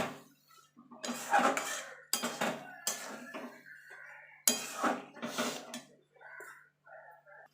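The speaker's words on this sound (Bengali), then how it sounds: "ধনেপাতা দিয়ে এবার নাড়াচাড়া দিয়ে আমি নামিয়ে নেব।" Vegetable chorchori with coriander leaves stirred in a pan, several bursts of scraping and clattering utensil strokes separated by pauses, close and fairly loud, with faint tonal clinks toward the end.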